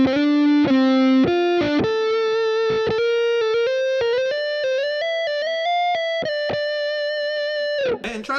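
Distorted electric guitar plays sustained blues-scale licks with slides and bends between notes, loud and clear with no talking.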